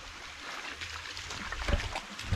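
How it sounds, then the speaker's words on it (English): A cold outdoor creek flows with a steady broadband rush of water, with a few low bumps and splashes near the end; no one speaks. "It's a creek"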